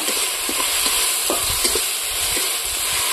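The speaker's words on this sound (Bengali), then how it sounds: "ভালো করে মশলাটা ভেজে নেব।" Spice paste with turmeric and salt sizzles and crackles steadily in a hot pan, with occasional stirring scrapes, close and fairly loud throughout.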